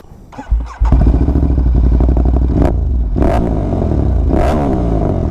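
A 2025 Ducati Panigale V4 motorcycle starts off with a thump, then its engine roars close and loud, revving up and down through gears while riding, with no voices over it.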